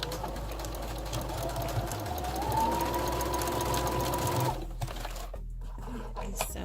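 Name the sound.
sewing machine sewing down a dress side seam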